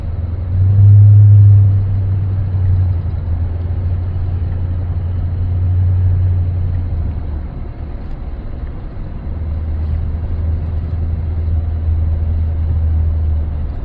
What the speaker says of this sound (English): I want you to see if you can detect this muffler from inside the truck.